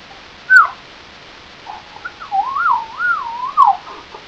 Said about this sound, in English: I just love to whistle.